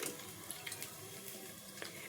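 Fresh coriander leaves are washed in water with soft splashing and swishing, quiet and close, with small drips and sloshes.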